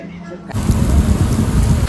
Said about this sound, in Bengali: প্রচন্ড জোরে বৃষ্টি হচ্ছে যে কারণে ধোঁয়াশা হয়ে গেছে